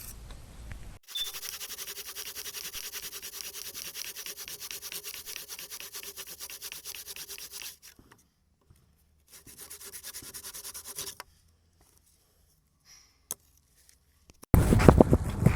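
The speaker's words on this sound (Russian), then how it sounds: "Сейчас мы выберем это пилой, для того, чтобы брус четко ложился." A hand saw cuts a notch into a wooden beam for a garden swing, steady rasping strokes running for several seconds, pausing, then resuming briefly before a louder burst at the end.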